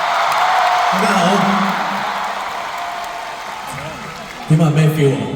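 A concert crowd at a Cantopop singer's show with a guest singer gives a broad wash of applause and cheering while a voice talks over it, with a louder burst of cheers near the end.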